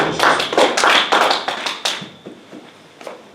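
A church congregation claps in acclaim during a service, a burst of quick loud overlapping applause that fades into a few scattered claps.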